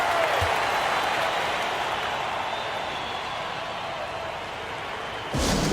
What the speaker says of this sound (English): Nice round of applause for your 76ers